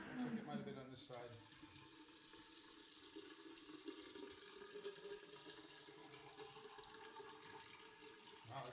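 A sink in a home fills with water that is not draining through a clogged drain, a steady close rushing and gurgling flow from start to finish, fairly faint overall, with a voice heard briefly.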